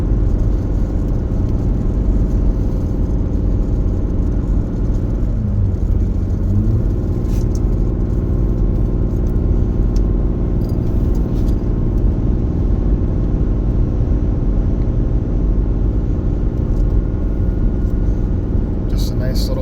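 Cummins HO diesel pickup with an Aisin transmission towing a 12,000-pound camper through the mountains, a steady loud engine drone and road rumble from inside the cab, with brief talk partway through.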